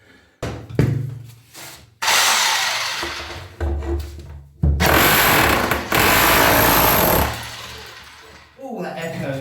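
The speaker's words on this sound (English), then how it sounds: "I think I'm ready to try and take the bath out, which is going to involve a bit of demolition" Noisy bathroom demolition to remove a bath: loud bursts of scraping, grinding and banging against wood and hard surfaces, rising and falling over several seconds.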